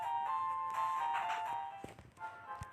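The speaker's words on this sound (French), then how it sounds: "J'aime bien le bruit du poison" A Pokémon Thunder Yellow poison damage effect: a steady synthesized chiptune tone with bright buzzing overtones, followed by a few short sharp blips, loud and close with no talking.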